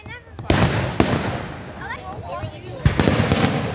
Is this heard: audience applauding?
no